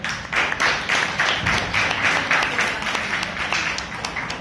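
A Toastmasters meeting audience applauds with steady, even clapping from many hands, moderately loud and continuous throughout, with no voices over it.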